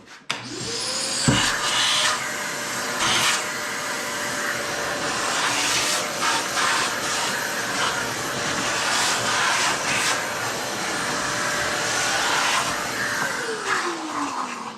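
A Fein Turbo 1 dust extractor spins up and runs with a steady loud whooshing roar of motor and suction, then winds down at the end.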